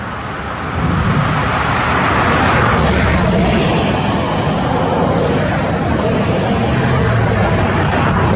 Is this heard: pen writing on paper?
no